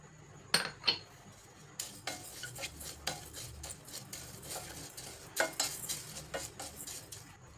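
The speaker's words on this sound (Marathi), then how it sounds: "मटकीची डाळ टाकायची." Moth bean dal poured into a pan and stirred as it dry-roasts for thalipeeth flour, with repeated scraping clinks of a spoon against the metal pan and a soft crackle underneath, no talking.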